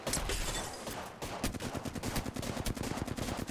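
Rapid bursts of hip-fired gunfire in Apex Legends, loud repeated cracking shots in quick rattling strings with short gaps between them.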